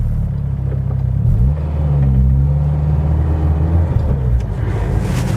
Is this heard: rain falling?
no